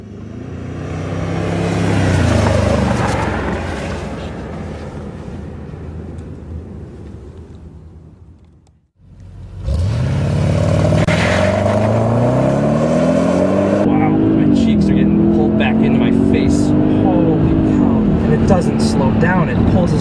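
A 2003 Audi RS6 with a twin-turbo V8 pulls hard through the gears, a loud close engine note climbing in pitch, dropping briefly at a shift, then rising again, with someone talking throughout.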